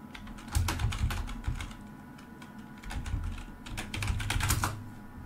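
Quiet bursts of typing on a computer keyboard, soft clicky keystrokes arriving in short irregular runs separated by pauses, close and alone without talk.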